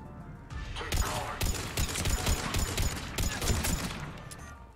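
Turret gunfire in the Mass Effect 3 video game: a dense, continuous fusillade of rapid shots with sharp bursts throughout, fairly loud, with some game noise mixed in.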